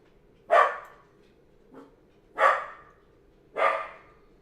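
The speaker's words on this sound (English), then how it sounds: "Dog's barking." A dog barks three times in a slow, uneven rhythm from some distance indoors, with a softer faint yip between the first two barks and quiet background otherwise.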